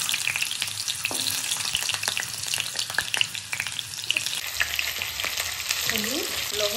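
Potatoes and whole garlic fry in hot oil with a close, continuous sizzle, broken by frequent stirring clatter and scrapes in the pan.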